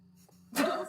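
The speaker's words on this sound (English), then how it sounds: "It was a hiccup." A person's hiccup: a single short, abrupt vocal burst, close and fairly loud, after a moment of quiet background.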